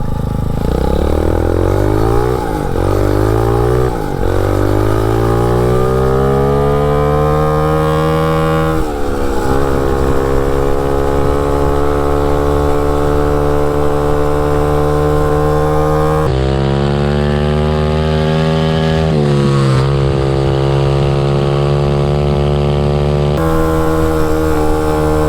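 A MotoVox minibike fitted with a 200cc dirt bike engine runs loud and close for the whole stretch, revving up through rising pitch sweeps, dropping back and climbing again with repeated throttle changes.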